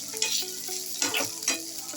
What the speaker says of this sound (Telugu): ఇది ఇట్లా ఫ్రై అవుతుంటుంది కదా, ఇట్లా చేసుకుంటే కొంచెం బాగుంటుంది